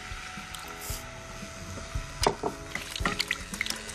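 Asparagus cooking water is poured into a pot of mussel and asparagus soup base, producing a continuous liquid splashing and gurgling with brief louder splashes near the end, heard alone without talk.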